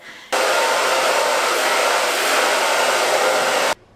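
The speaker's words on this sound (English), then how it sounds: "I don't have time for it to air dry, so I'm just gonna blow dry it" A hair dryer blows on a freshly cleaned desk chair, switching on abruptly and running as a loud, steady, close whoosh for about three seconds before cutting off.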